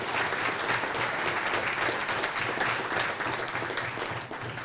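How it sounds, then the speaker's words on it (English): Audience applause at a cardiac arrest survivors celebration, dense and steady clapping from a crowd, close and loud, fading slightly at the end. "Another round of applause for them."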